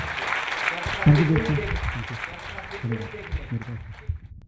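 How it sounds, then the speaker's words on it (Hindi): Applause from an audience at a health talk rises under a voice, moderate and fairly close, then tapers off toward the end. "मित्रों, एक बार जोरदार तालियां बजाएं।"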